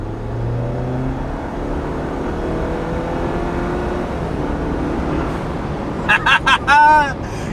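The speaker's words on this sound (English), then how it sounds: "As soon as I let off the throttle, you get that little psst, and that's exactly what I wanted." A short hiss of blow-off valve release on a 2022 Jeep Wrangler with a 2.0L turbo, a few quick bursts and one longer puff at the very end, after a long stretch of steady engine and road drone.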